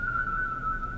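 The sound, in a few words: a person whistling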